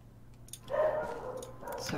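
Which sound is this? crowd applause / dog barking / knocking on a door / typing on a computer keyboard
dog barking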